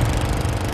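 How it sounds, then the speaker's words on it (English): A lawn mower engine runs steadily and loudly nearby, a continuous low droning rumble with no pauses, during a morning of lawn cutting. "It was earlier in the morning and Sonny Buchanan was cutting the lawn."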